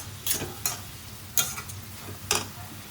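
Chili powder and turmeric stirred into frying oil with onions for a dried fish and tomato curry, a few sharp utensil scrapes and clicks over a low steady sizzle, close up with no talk.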